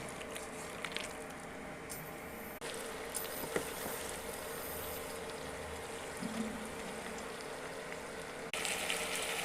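Chicken curry bubbling in a covered pot over the stove, a steady, fairly quiet wash of simmering liquid with a few small pops and shifts, no voices.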